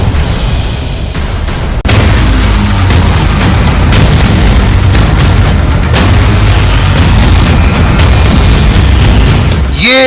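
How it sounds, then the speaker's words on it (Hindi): A 122 mm D-30 howitzer firing from a mountain peak in Panjshir, a heavy boom near the start and then a loud, sustained roaring rumble that fills the rest of the clip. "ये 122 mm हॉवित्जर तोप है जिसको रूस में D-30 भी कहा जाता है।"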